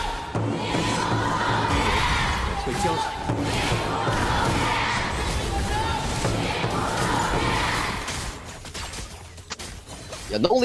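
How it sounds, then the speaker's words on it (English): Esports fans at a Honor of Kings KCC2025 knockout-stage match yell and cheer for their team in a loud arena, sustained crowd roar rising in waves for about eight seconds before dropping away. "So let's hear the fans cheer for their team."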